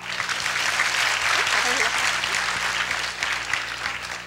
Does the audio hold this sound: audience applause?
yes